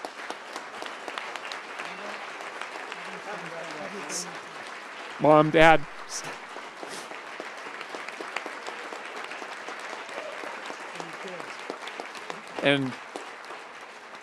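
A university audience claps politely during a presidential announcement. The applause runs steadily at moderate level beneath a speaking voice, with a few brief louder bursts.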